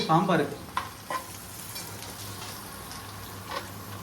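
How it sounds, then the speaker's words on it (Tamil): Hot oil sizzling steadily as spices are tempered for sambar, with a few light stirring clinks and scrapes over the continuous crackle. "சாம்பாருக்கு தாளிக்கிறோம்."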